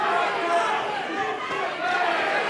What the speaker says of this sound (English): Oh, the crowd now absolutely getting into this fight,